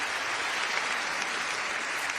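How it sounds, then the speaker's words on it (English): Steady, dense audience applause at the James Beard Awards ceremony, continuous and even throughout with no voices on top. "Round of applause for them, for sure."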